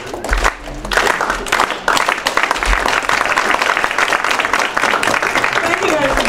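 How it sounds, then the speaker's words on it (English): An audience at a marketing panel event bursts into loud, dense applause that swells and holds steady for several seconds, with a voice speaking briefly near the start. "Let's give a big round of applause for that."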